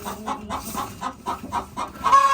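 A hen in a backyard coop clucks in a close, steady run of about nine evenly spaced clucks, rising slightly louder at the end.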